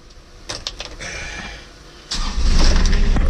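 A Kubota tractor diesel engine cranks with a few short bursts, then catches about two seconds in and settles into a loud, rumbling idle close by.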